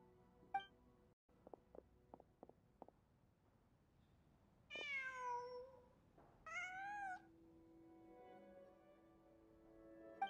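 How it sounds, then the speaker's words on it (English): A cat in the video game Genshin Impact meows twice in clear, close calls, after a few soft clicks and ahead of a quieter ambient tone. "Huh. Just a cat."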